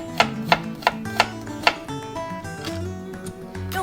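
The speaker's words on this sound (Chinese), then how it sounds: "蒜头切碎" Garlic cloves being minced with a knife on a cutting board, five or six sharp close chops at an even pace, then softer scraping and rubbing sounds, no talk.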